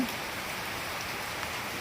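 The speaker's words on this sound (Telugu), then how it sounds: "వర్షం వర్షం వస్తుంది" Steady rain falling, a dense even patter with no voices, constant in level throughout.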